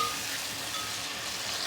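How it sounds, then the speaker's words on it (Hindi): Chopped tomatoes fry in a pan with garlic ginger paste, making a steady, close, even sizzle with no voices. "अब मैं ये जो टमाटर कटे हुए हैं ये इसके अंदर डालूंगी और इनको भी अच्छी तरह मैं भून लूँगी"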